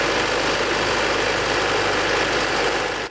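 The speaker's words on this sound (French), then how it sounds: "je mets la turbine en route et je fais tourner ces trous qui entraînent tout le mécanisme" The seeding turbine of a tractor-mounted carrot seeder roars up close, a loud, steady broadband whoosh with a low mechanical rumble underneath, running without a break until it cuts off at the very end.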